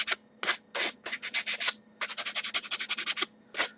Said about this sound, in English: We want to hit our edges again, okay?